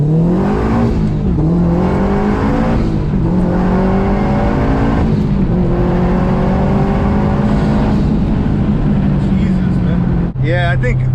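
Turbocharged Subaru STI engine under hard acceleration on a pull, a loud, sustained drone that climbs in pitch through several gear shifts over about ten seconds, heard from inside the car with voices talking over it.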